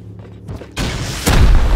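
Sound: rockets being fired in a video game

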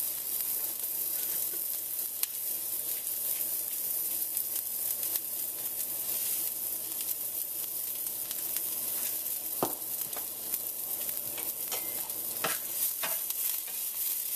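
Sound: spinach being lightly sautéed in a pan

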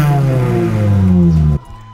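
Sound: Honda Jazz GD3 IDSI car engine revving

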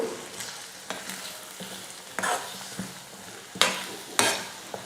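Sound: stirring onion and egg stir-fry in a hot pan

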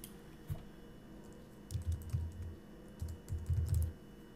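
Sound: typing a course nickname on a computer keyboard

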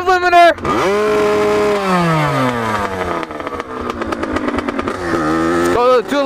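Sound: motorcycle engine revving against the rev limiter

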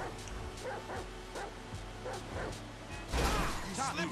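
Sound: dog barking in video game GTA V

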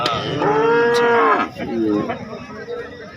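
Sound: cow mooing

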